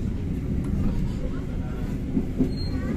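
The Siliwangi passenger train running on the Sukabumi–Cianjur railway, heard from on board as a steady, loud rumble of wheels and carriages with faint clicks and squeals.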